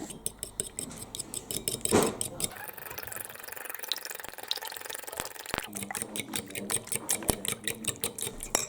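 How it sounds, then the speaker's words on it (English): Eggs lightly beaten in a bowl make quick, rhythmic clinking strokes, steady and close, with a brief pause partway through. "we're just going to go ahead and slightly beat them before we add them to the bread machine."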